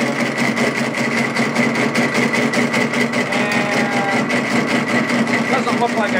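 A tube notcher cutting a fish-mouth notch in a metal tube at low RPM, a steady droning machine hum with a faint whine and rhythmic pulsing running unbroken at moderate, close level throughout.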